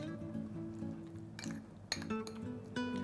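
A spoon clinks against a bowl while banana salad with sugar, salt, grated coconut and coriander is mixed. There are several close ringing taps among a soft scraping stir.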